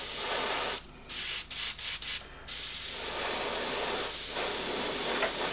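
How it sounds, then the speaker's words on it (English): An aerosol can sprays paint onto a painting in a steady hiss, broken by a few short bursts before one long continuous spray, close and loud with no talking. "So I'm going to now spray the end again."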